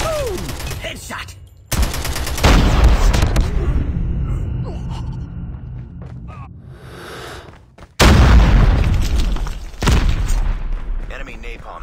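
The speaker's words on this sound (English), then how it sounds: "Enemy napalm has been deployed." Heavy booms and rolling explosions from a napalm strike in Call of Duty Mobile during a 10v10 Kill Confirmed match, two sharp loud blasts with rumbling decay between them, plus gunfire and game voice lines.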